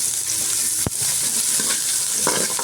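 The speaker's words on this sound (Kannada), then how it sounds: "ಕ್ಯಾಪ್ಸಿಕಮ್ ಹಾಕ್ಕೊಂಡು ಒಮ್ಮೆ ಫ್ರೈ ಮಾಡ್ಕೊಳ್ಳೋಣ." Capsicum added to onions already frying in a pan, a steady close sizzle with a brief thump and scraping stirs near the end, no talking.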